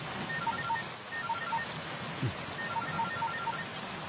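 A landline phone rings with a repeating electronic melody, two short bursts of trilling tones separated by a pause, over steady rain background noise.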